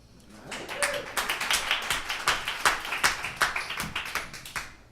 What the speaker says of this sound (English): Thank God I said something that gets an applause.